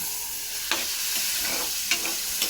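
A frying pan of food, made with pork before, being stirred: scraping, clattering strokes recur a few times over a steady sizzle of frying, close and moderately loud, with no talk.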